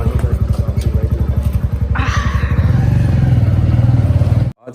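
A motorcycle engine idles with rapid thumping pulses, then revs up into a louder, steadier roar before cutting off abruptly; close by.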